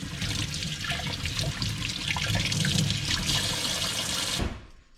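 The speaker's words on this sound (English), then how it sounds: "I like to rinse and peel the veggies before they go into the mixture." Vegetables for carrot and zucchini cookies, carrots and zucchini, are rinsed under a running kitchen tap, giving a steady close splashing water flow that stops abruptly near the end.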